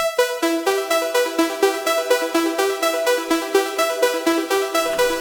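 An unprocessed tech house synth arpeggio made in Serum, a bright, buzzy sawtooth-like tone running quick repeating notes from the root up to the third at a steady sixteenth-note pace, heard alone and fairly loud.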